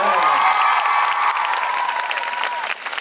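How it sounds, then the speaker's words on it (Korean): A concert audience at an outdoor show in Daehangno claps and cheers for about three seconds, loud and close, with a faint bright tone ringing through the applause. "동의하시는 분들 박수 한번 주세요."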